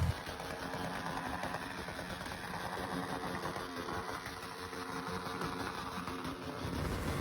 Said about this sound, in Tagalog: Napakalakas naman talaga din ng makina niyan.